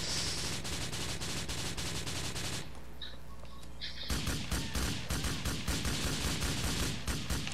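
Rapid bursts of automatic gunfire from an enemy's weapon in GTA 4, loud and sustained, with a brief lull mid-way before the shooting resumes in dense, rhythmic volleys.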